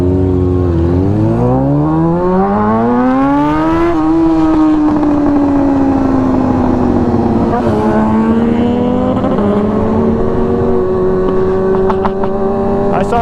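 Loud engine revving hard during downtown street racing at night in Grand Rapids, pitch climbing and falling through repeated throttle pulls over a steady roar, with voices talking over it.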